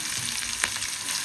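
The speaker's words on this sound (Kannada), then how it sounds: "ಈಗ ಇದಕ್ಕೆ ಉಳ್ಳಾಗಡ್ಡಿ ಹಾಕೋಣ." Chopped onion sizzling in hot oil with a tempering of mustard seeds, cumin, urad dal and chana dal, a dense, steady crackle close by with one brief stir or clink partway through.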